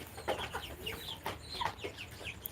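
A flock of broiler chickens and cockerels on a small poultry farm clucking and calling in short overlapping bursts, fairly close, with steady farmyard murmur underneath and no talking.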